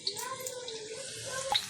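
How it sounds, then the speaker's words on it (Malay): Water poured into a pot while making wonton soup, a steady watery rush and splash lasting the whole short moment, close and moderately loud. "Masukkan air gitu ya."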